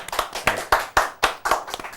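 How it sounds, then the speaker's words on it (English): A studio audience on a local TV show gives a short round of claps, loud, close and separate, falling into a fairly steady rhythm of about four beats a second. "Bit of a round of applause for them, people."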